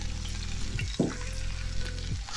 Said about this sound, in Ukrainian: На розігріту сковорідку із рослинною олією викладаємо овочі, цибульку,